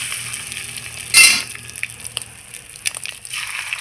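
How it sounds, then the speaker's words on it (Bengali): Fish roe fritters fry in hot oil left over from cooking cutlets, giving a steady, close sizzle. A brief louder burst of crackling comes as batter hits the oil, with light scraping and clinks of utensils over the frying. "আমি ওই তেলেই মাছের ডিমের বড়াটাও ভেজে নেব"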